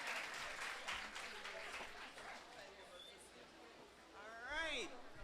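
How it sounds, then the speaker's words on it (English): Scattered audience applause at a Girls in ICT Day event as a speaker walks up, faint claps under a murmur of crowd noise, easing off before a short squeal of feedback near the end. "Please give her a round of applause as she makes her way."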